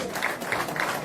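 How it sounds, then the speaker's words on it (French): Brief applause from an audience for a female singer at an event, a steady patter of clapping with soft crowd noise throughout. "merci on a applaudi l'artiste pour cette réflexion"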